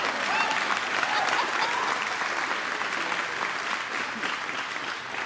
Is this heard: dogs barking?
no